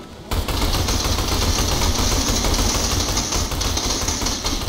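Gunfire in a dinosaur horde video game, a sustained rapid stream of loud shots with no pause after a brief quiet start.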